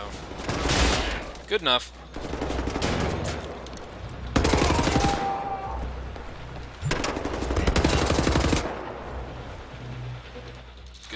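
Automatic LKW gunfire from the video game Wolfenstein: The New Order comes in three loud, dense bursts separated by short gaps, with someone talking briefly between shots.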